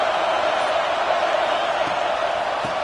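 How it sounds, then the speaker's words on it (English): A stadium crowd at a football game roars in a dense, continuous wash of noise, loud and sustained for a few seconds with no clear break. "This crowd is trying to inspire this defense to make a big red zone stop."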